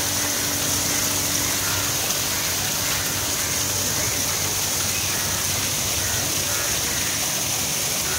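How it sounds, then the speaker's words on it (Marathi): Water pours steadily down an artificial waterfall in a Mumbai zoo garden, a constant broadband rush with a faint hum, close and continuous throughout. "आणि इकडे बघा पाणी येतं आहे"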